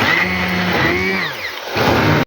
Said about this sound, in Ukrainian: я беру тепер занурювальний блендер і перебиваю їх у пюре